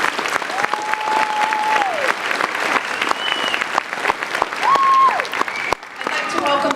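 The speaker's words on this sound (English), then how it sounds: "Please give another round of applause for these students in recognition." An audience at a college graduation ceremony claps for the graduating students, a loud, sustained round of applause that continues under a speaker's amplified voice.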